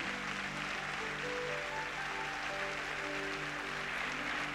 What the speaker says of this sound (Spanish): Aplauda al Dios de la gloria